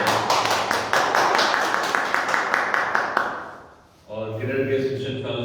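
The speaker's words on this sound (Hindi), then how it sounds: "परमेश्वर के लिए तालियां बजाएं।" A congregation claps together in rhythm during a Sunday morning church service, loud and steady beats for about three seconds that fade out before a voice begins speaking.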